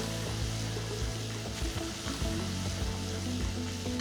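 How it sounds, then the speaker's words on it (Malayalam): Kashmiri chili powder and turmeric sautéing in a pan make a dense, loud sizzle with frequent low stirring scrapes and knocks throughout. "മുളക് പൊടിയുടെ ഒക്കെ പച്ചമണം മാറുന്ന വരെ വഴറ്റിയെടുക്കുക"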